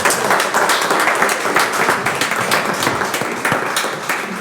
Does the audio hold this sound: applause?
yes